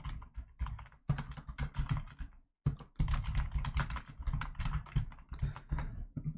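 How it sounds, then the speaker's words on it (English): Rapid typing on a computer keyboard during a Flesh and Blood card game session, dense clattering keystrokes in quick bursts with a short pause midway, close and fairly loud. "I was just typing that I think Sink Below is really good in this matchup."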